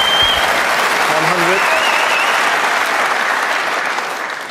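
Loud, sustained applause from a snooker crowd at the 2014 UK Championship final greeting a century break, a dense wash of clapping that slowly tapers while a voice briefly calls out the score.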